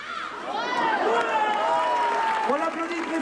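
Circus gala audience in Sully-sur-Loire applauding a knife-throwing act, a steady wash of clapping and crowd noise throughout, with a presenter's amplified voice speaking over it.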